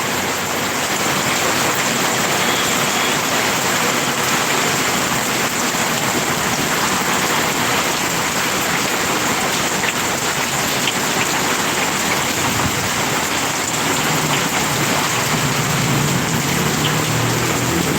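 Heavy typhoon rain pours steadily and loudly, a dense continuous hiss of drops hitting surfaces with no break across the whole stretch.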